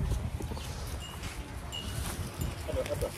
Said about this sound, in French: Donc là, il y a le cheval là.